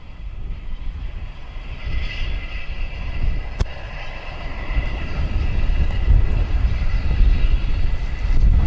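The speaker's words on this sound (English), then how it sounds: "it's a tractor, because I'm literally in a field." A tractor engine drones in a field, a low steady rumble that swells gradually louder, with a faint distant hum layered above it.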